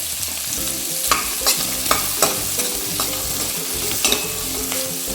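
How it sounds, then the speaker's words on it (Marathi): Onion, garlic and potato are stir-fried in a pan while sambar is made. A continuous sizzle runs under repeated scraping strokes of a spatula, loud and close, with no talk. "लसूण घालून आपण परतून घेऊया ते बटाटाही घातला"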